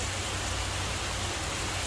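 Heavy rain suddenly pouring down around a house, a steady dense hiss of water with no breaks, close and fairly loud.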